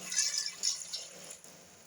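Water is poured from above into a pressure cooker over potatoes, a short, faint splashing trickle that tapers off within two seconds, with no talk.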